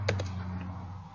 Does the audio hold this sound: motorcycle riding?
no